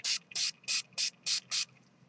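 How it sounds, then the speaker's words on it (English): Six quick hissing bursts from a spray bottle of glimmer mist sprayed onto ribbon, close and evenly spaced, then quiet. "we're going to spray our ribbon here really fast to make it match the design of our bag"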